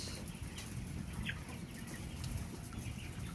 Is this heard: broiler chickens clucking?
yes